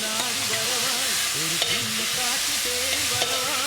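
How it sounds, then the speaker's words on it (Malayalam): Salted wild lime being stirred into hot spiced oil with asafoetida for a pickle: bright crackling sizzle throughout, with repeated scraping strokes of a spoon against the pan, close and loud, no talking. "നന്നായി യോജിപ്പിച്ച് കൊടുക്കാം"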